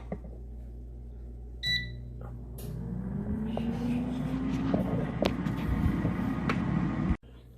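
An air fryer cooks steak at 400 degrees with a steady whirring fan hum and low rumble, a short beep near the start, then an abrupt cutoff near the end.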